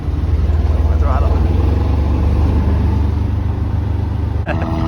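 A motorboat engine drones loud and steady throughout, its low rumble holding under the throttle push, with wind or spray noise and a brief shift near the end.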